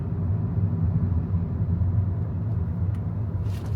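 Steady, continuous rumble of busy car traffic on a road in Riyadh, heard from inside a moving vehicle, with a low, even engine drone throughout and no talking.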